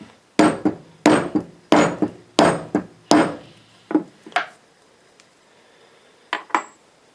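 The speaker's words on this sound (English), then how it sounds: "Take our other tool, set it down on there, give it a couple whacks." A metal tool is struck with a hammer while making a mystery bracelet, giving a run of about eight sharp, loud whacks in uneven pairs, then a pause and two fainter taps near the end, with no talk.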